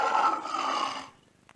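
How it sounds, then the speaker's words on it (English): A lion gives one loud, rough roar that holds for about a second and then cuts off sharply into quiet. "Lion."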